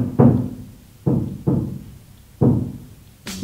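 Building repair work in a new apartment block: four loud, hollow knocks or thuds, each decaying over about half a second, spaced irregularly and heard alone without talk, followed by a brief sharper hit at the end.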